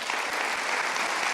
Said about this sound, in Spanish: demos un aplauso de gloria al Señor